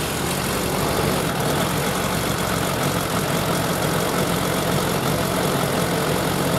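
A Suzuki Bandit 1200 motorcycle engine idles steadily during a carburetor sync, a continuous, even rumble held close and loud from start to finish with no talk over it.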